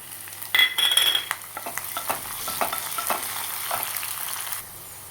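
Green chillies hit hot oil with already browned ginger in a pan for a Kerala pulinji, giving a loud close sizzle, with a bright crackle at first and then steady frying under scraping stirs.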